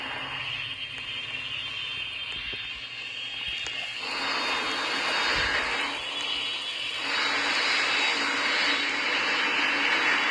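Jet engines of a Boeing Dreamliner airliner in a Roblox game roar steadily and continuously, a broad loud whoosh that swells louder after a few seconds, with no talking.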